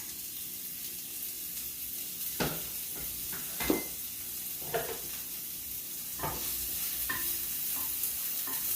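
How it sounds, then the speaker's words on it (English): Onions sizzle steadily in hot oil, a constant hiss broken by occasional scraping stirs and clinks in the pan. "I'm going to put that in with my oil that I just put in the pan. Oops, already sizzling"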